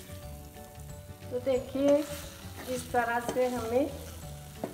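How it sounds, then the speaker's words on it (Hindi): Grated bottle gourd halwa roasting in a pan until reddish: a continuous soft sizzle with light stirring runs underneath while a person speaks briefly over it. "इसे थोड़ा सुर्ख होने तक, थोड़ा सा रेड होने तक हम अच्छे से इसे भूनेंगे"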